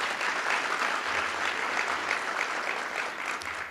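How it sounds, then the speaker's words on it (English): Sustained applause from an audience at a county executive's State of the County address fills the room, steady and dense clapping for several seconds at moderate level. "Can we give them a round of applause?"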